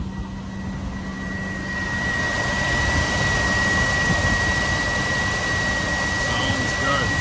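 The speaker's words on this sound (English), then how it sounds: "take a listen to that 454 fuel injected." A fuel-injected 454 V8 in a 1995 Chevrolet Suburban 2500 idles steadily, a continuous low rumble with a faint whine that rises slightly in level after the first couple of seconds and then holds even.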